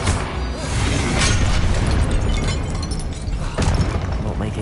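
Confringo, an explosion spell in the video game Hogwarts Legacy, bursts with dense, loud crackling blasts and a few sharp impacts over roughly five seconds, amid busy combat sound.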